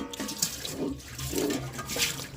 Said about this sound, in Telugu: సామాన్ అయితే కడిగేస్తున్నాను అనమాట